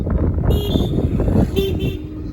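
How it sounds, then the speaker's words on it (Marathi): An Ola electric scooter horn honks twice, a longer toot then a shorter one, loud and close over a running engine. "हॉर्न पण मारतो"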